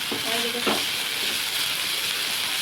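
Carrots and beans stir-fry in a pan, a close, dense, steady sizzle with a brief stirring scrape near the start and no talking.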